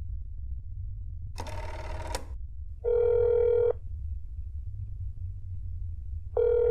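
In the video game That's Not My Neighbor, a telephone rings in two loud electronic bursts with a pause between, after an earlier brief noisy burst, over steady low background hum.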